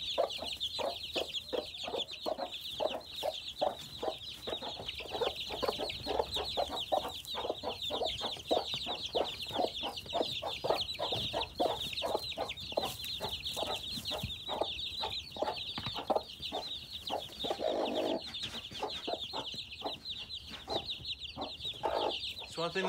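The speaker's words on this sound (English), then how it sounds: "show you the baby chicks." Baby chicks in a chicken house keep up dense, continuous high-pitched peeping, with a few lower hen clucks mixed in nearby throughout.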